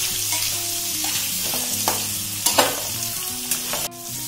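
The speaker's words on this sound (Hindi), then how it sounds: "और प्याज भी डाल देंगे साथ में, और इसको थोड़ा सा हम पकाएंगे।" Onions frying in oil in a pan for a pumpkin dish, steady close sizzling with a few spatula scrapes and clacks against the metal, no voices over it.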